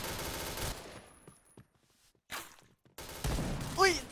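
Gunfire from the shooting video game Point Blank comes in short bursts with gaps between them, mixed with other game effects at moderate level.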